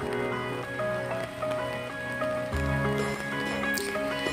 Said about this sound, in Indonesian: Ini dari semalam hujan terus teman-teman,